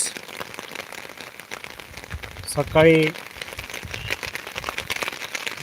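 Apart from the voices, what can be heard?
heavy rain falling in Beed during flooding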